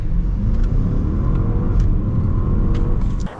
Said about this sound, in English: we're gonna get an acceleration here at the A8